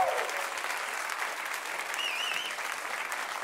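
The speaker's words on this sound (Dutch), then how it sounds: "Laten we nog een keer een applaus geven." A church audience applauds steadily, a dense even wash of clapping throughout with a faint whistle or voice briefly rising above it.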